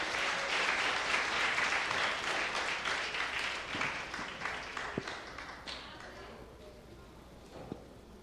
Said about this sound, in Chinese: 所以这时候我们也一起来拍手欢迎我们的夏牧师